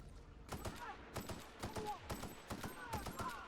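Rapid gunfire bursts from a weapon in the video game The Outer Worlds, several sharp shots in quick succession under a player's talking.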